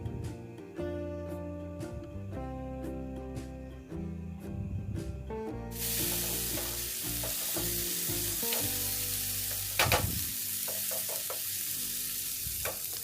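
Curry spice paste fries and is stirred in a pan for a Bengali-style chicken curry, with steady close sizzling and scraping stir strokes, a clanging utensil hit midway, and no talking.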